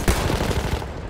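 Rapid automatic gunfire from a World War I shooter game, Battlefield 1, during an assault on Prise de Tahure: a dense, loud burst of repeated shots in quick rhythm, filling the moment with no talk over it.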